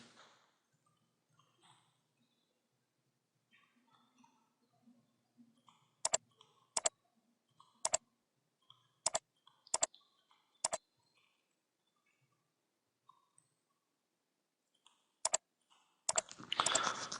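Sparse computer mouse clicks and keyboard taps while IP addresses are entered in network simulation software, a handful of sharp isolated clicks over near silence, ending in a quick flurry of typing.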